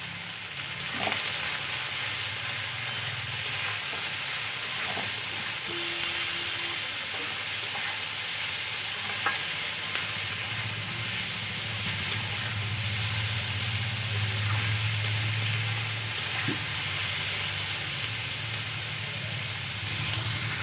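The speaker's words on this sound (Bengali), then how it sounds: "আমি কিছুক্ষণ ভাজা ভাজা করে নিয়েছি।" Leftover rice seasoned with turmeric and salt frying in a pan gives a steady, continuous sizzle with faint stirring scrapes throughout, close and alone with no talking.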